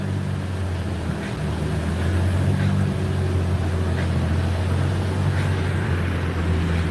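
A car runs on an outdoor dyno, its engine holding a steady, loud low drone with a rumbling hum. Faint periodic ticks sit over the drone, and no one speaks.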